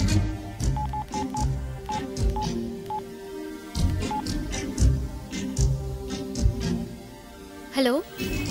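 A telephone keypad sends a rapid series of short dialing beeps, some in quick clusters, while people talk over them. A brief rising chirp near the end may be the line connecting.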